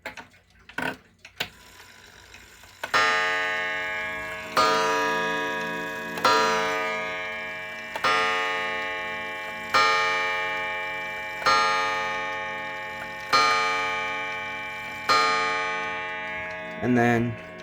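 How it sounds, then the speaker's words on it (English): A vintage Centurion 35-day wall clock strikes the hour with a hammer on its chime, sounding seven or eight loud, evenly spaced metallic strikes that ring out and decay between blows, after a few handling clicks at the start. "I'm gonna turn the chime on so you can hear it."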